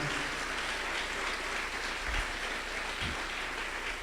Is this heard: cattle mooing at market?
no